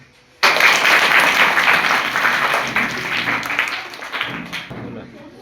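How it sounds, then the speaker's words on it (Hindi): An audience bursts into applause after a children's environmental skit at an award event, sudden and loud, sustained for several seconds and tapering slowly with a few scattered claps at the end. "ताली बजाओ"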